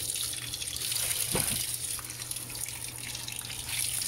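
Panasonic Ag+ 16 kg washing machine filling with water, a steady rushing pour of tap water into the drum with a low constant hum beneath, close and continuous without talk.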